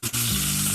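Bacon frying on a stove gives a steady, close crackling sizzle that holds evenly loud for under a second, with a faint low hum beneath and no voices.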